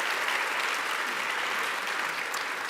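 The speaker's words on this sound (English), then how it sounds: "So please join me in a round of applause for the two fantastic" A conference audience at a climate plenary breaks into a round of applause, thick continuous clapping from many hands that holds steady throughout.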